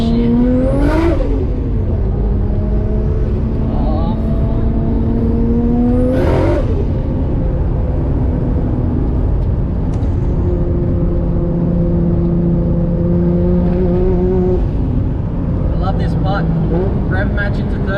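A 550 hp Nissan Skyline R33 with a turbocharged RB25DET engine accelerates hard on a mountain touge road, revving up in sharp sweeps and shifting repeatedly, loud and close, with a voice talking over it throughout.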